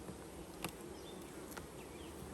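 Honey bees hum and buzz faintly around a hive in an apiary, a soft, steady drone with a couple of brief knocks, no voices.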